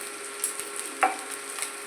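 Rice with fried vegetables, salt and green chillies sizzles softly in a pan, with a light steady crackle and a few faint utensil taps, close and quiet.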